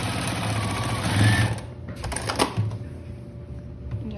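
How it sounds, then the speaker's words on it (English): Sewing machine stitching a quarter-inch seam on fabric for half square triangles, a close steady whirring run that stops midway, followed by a few mechanical clicks and handling noises. "So we are going to sew this together on the 1/4 inch."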